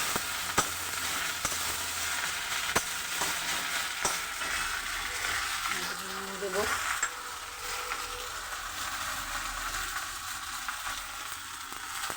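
Jute leaves fry in a pan with browned chillies, producing a steady, close crackling sizzle with a few sharp pops and a brief stirring scrape midway, and no voices.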